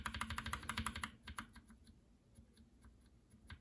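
Lubed tactile keyboard switch, a NovelKeys Blueberry hybrid with keycap fitted, pressed rapidly at close range: a quick run of soft, dense clacks for about a second, then sparser individual presses spaced out.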